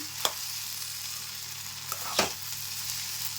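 Okra stir-fried with chili powder sizzles steadily in a pan, with a constant close frying hiss and a few sharp scrapes of a spatula against the pan.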